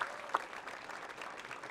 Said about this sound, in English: that's a little round of applause for sure